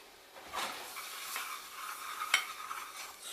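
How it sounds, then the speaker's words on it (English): A spoon stirs a mixture with vanilla being prepared for milk, soft scraping swishes against a bowl in a few irregular strokes with a light clink, faint and close, with no voices. "Stir, stir, stir."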